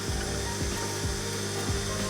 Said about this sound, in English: I'll just pop that one in a clamp.